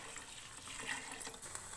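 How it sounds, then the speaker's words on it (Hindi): Water poured into a cooking pot, about four cups added to softened potatoes for vegetable pulao; a steady, fairly quiet splashing pour runs throughout, with no talk. "इसके अंदर मैं 4 कप पानी ऐड करूँगी।"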